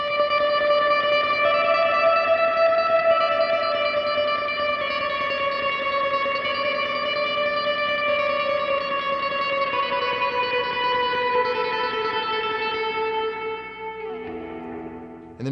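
A long sustained electric guitar chord through a Line 6 POD HD500X swells and washes in heavy reverb and echo, slowly shifting before a few new notes enter near the end.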